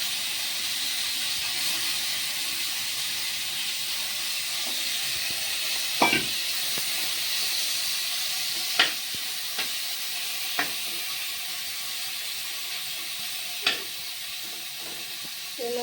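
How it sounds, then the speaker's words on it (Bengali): Dried fish (shutki) frying in hot oil, a loud continuous hissing sizzle up close, punctuated by a handful of sharp pops and clicks from the pan. "মাছটা এখন ভাজা হবে"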